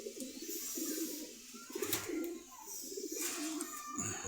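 Racing pigeons coo in a crowded pigeon market at Meradia Bazar, Khilgaon, Dhaka, with soft repeated throaty coos and a few higher chirps sounding close by throughout.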